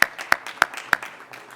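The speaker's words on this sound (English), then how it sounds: "so let's give them a round of applause" A few sharp, separate claps at an evening event, about four distinct hand claps spaced evenly and fairly close, then fading into quiet murmur rather than building into full applause.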